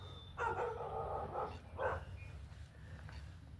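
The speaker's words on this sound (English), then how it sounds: "Look at the beautiful dogs." Dogs bark at a camping spot, with a longer volley of barks early on followed by one short burst. The barking is faint and somewhat distant over a low background rumble.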